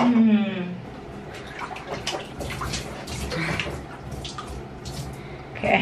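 A baby is lowered into a bath of warm water, with soft splashing and sloshing that carries on through the moment, a faint infant voice near the start and gentle handling sounds close by.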